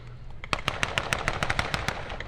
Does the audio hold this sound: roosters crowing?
no